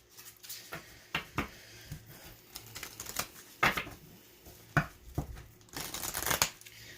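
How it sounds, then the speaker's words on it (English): Thin Titania's Fortune cards are shuffled by hand, giving quick, close snapping riffles and flicks that come in irregular bursts, ending in a longer, denser riffle. "They shuffle just fine, but they are very, very thin, so they bend really easily."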